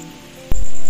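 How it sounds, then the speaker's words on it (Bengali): Heavy rain falling over an outdoor garden during days of wet weather, a dense steady hiss of drops with a sudden loud thump partway through and heavier patter after. "চারিদিকটা দেখো, ভালোই জোরে বৃষ্টি নেমে গেছে।"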